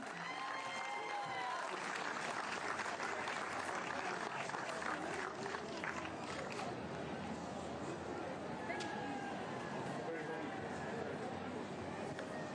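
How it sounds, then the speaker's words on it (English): A crowd applauds a girls' 4-kilometre junior dash winner at the Gold Coast Marathon races, a steady wash of clapping and light cheering spread out over an outdoor space, with speech from an announcer mixed in. "One more round of applause for our champions"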